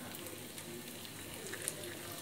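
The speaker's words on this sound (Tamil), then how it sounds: "எண்ணெய் நல்லா காஞ்சோடனே ஜீரகம் நம்ம போட்டுக்கிடுவோம்." Cumin seeds and spices sizzle in hot oil for mutton bone curry, giving a steady close crackling hiss with a few sharp pops.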